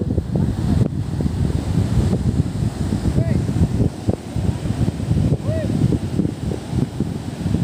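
Strong wind buffets the microphone on a beach while villagers pull a fishing net, a loud, continuous rumbling roar with surf behind it, and voices speaking over it.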